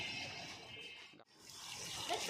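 Water pours steadily onto potted plants on a rooftop, a continuous rushing splash that briefly cuts out midway and then resumes at the same level.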